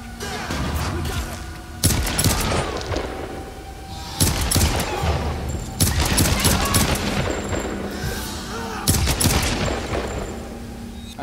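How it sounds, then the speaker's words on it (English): Video game battle gunfire in rapid automatic bursts, loud and close, with several heavy volleys and dense crackling shots across the span, no audible talk. "Firing from flank!"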